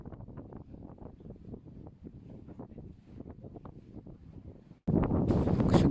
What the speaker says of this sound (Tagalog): Kusog kayong hangin mga brad